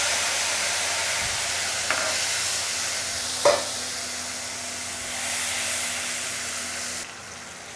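A spice paste of ground coriander, turmeric and chili powder mixed with water fries in a pan, giving a steady close hiss and sizzle with a couple of brief utensil knocks.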